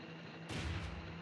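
A bunkhouse explosion in the Nancy Drew video game The White Wolf of Icicle Creek sounds as a single faint, muffled boom with a short rumbling tail over a quiet background hum.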